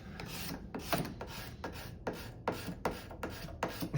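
A hand scraper rasps across the wooden body of an old plane, about nine even strokes in a steady back-and-forth rhythm, close and clear with no talking.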